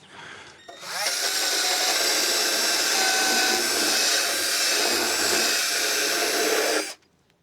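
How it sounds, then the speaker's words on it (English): A power sander runs on the wooden surface of a pigeon feeder, a loud steady whine and rasp that starts abruptly after a second and cuts off near the end, with no talk. "We'll sand off the surface of that guy and then we'll be good."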